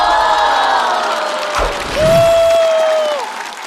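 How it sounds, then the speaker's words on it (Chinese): An audience at a stand-up comedy show breaks into clapping and cheering that swells and fades, with a clear whistle-like tone rising through the middle. "掌声送给阿修"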